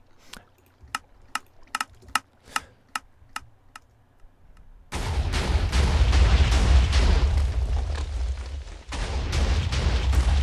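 A Minecraft TNT dispenser cannon: a series of sharp, evenly spaced clicks and ticks, then a roaring wall of loud explosions that rumbles on for several seconds, with a brief dip before a final burst.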